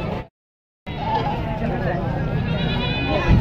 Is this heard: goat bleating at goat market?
yes